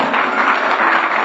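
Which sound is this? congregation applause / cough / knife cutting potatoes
congregation applause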